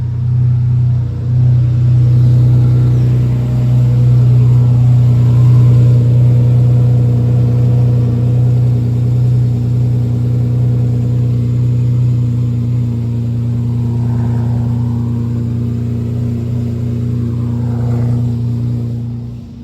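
A Lamborghini Murcielago engine idles steadily after an oil change, a loud, continuous low rumble with strong even harmonics that holds constant for the whole stretch, with no voices.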